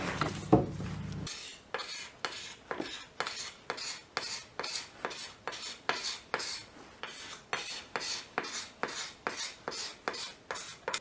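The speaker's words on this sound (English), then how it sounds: "I'm going to use my scraper to do some final shaping on the neck to thin this out a little" Hand scraper shaving a wooden banjo neck in a long series of regular rasping strokes, about two per second, close and fairly quiet, after a brief low thump at the start.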